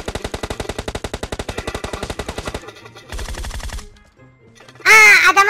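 Rapid automatic gunfire in PUBG Mobile: a long, evenly spaced burst of loud shots up close, a short pause, then a quicker second burst, followed by a brief sharp bright sound at the end.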